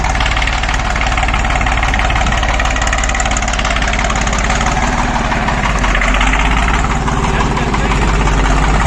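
A farm tractor's engine idles loud and close, a steady rumbling chug that runs unbroken throughout with no talk over it.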